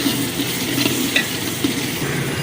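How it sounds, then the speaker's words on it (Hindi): Chicken korma masala, degh style in a large commercial batch, fries loudly in a pot with a dense close sizzle and continuous scraping stirs. "और 2-3 मिनट इसको मज़ीद भुनाई करेंगे हम"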